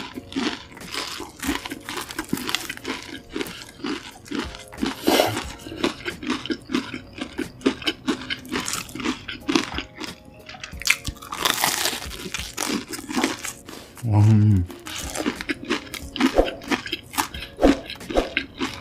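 Crispy convenience store food, a fried snack like a hot dog or croquette-style bun, is bitten and chewed close up, with loud repeated crunches and crinkling throughout and no talking.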